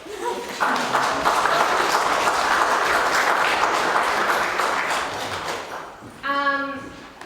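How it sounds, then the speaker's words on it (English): Audience applause after an evening talk, a sustained wash of many hands clapping for several seconds that fades out before a voice begins speaking at the end. "let's just give her another clap"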